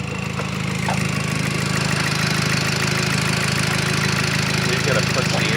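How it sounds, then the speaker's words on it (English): A Volkswagen car engine runs loud and steady throughout, a continuous low mechanical drone with a few faint clicks and knocks over it, close by. "You gotta push the engine really hard."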